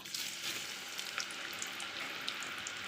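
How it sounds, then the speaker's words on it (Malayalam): Sliced banana for Kerala-style chips fries in hot oil, giving a soft but continuous bubbling sizzle with small pops, heard close and alone. "എണ്ണ നല്ലതായിട്ട് ചൂടായിട്ടുണ്ട്. നമുക്ക് കായ ഇട്ട് കൊടുക്കാം"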